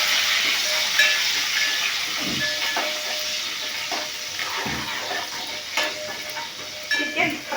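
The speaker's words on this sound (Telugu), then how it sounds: "ఫస్ట్ స్టవ్ ఆన్ చేసి పాన్ పెట్టి ఆయిల్ పోసి అందులో ఒక 5 పచ్చిమిర్చి కరివేపాకు వేసాను." Green chillies and curry leaves fry in hot oil in a pan, giving a steady close sizzle and hiss with occasional stirring scrapes, no talking.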